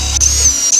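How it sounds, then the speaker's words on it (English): A power drill whirs loudly and steadily up close as it bores pilot holes for wood screws while a statue display case is assembled, then spins down and stops partway through. "You're gonna want to take the drill with the same bit that you used for the mounting brackets,"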